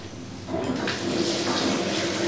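Water poured into a pan holding onion, a steady rushing splash that swells slightly and continues close by without any talking.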